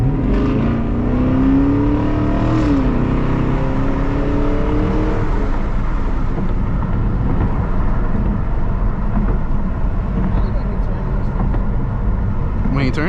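A Chevrolet Camaro SS pulls hard under acceleration, its engine note climbing in pitch over the first few seconds before settling into a steady loud road and engine roar, heard from inside the car with a voice speaking over it.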